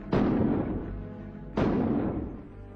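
Two loud, booming gunshots about a second and a half apart, each followed by a long rumbling echo that slowly fades.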